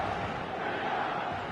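A stadium crowd in the eFootball video game gives a steady, loud roar of massed voices, a broad continuous wash with no clear breaks.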